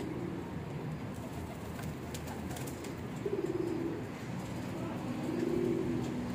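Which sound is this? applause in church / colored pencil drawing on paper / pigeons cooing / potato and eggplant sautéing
pigeons cooing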